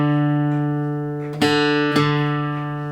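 Sustained plucked guitar notes ring out, with two sharper string attacks about half a second apart as another string is struck for comparison.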